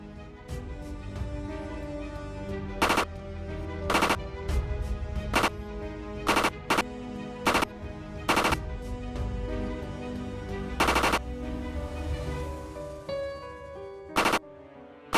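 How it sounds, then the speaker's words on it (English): A bombardier beetle firing repeated defensive spray bursts, more than ten sharp cracking pops at irregular intervals over a steady tonal background hum. "In this test, it fired off more than 10 bombs in a row."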